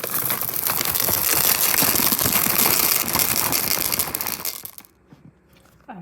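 M&Ms folded into thick brownie batter, a busy close crunching and clicking rattle for several seconds that stops abruptly, leaving near-silence with a faint tap at the end.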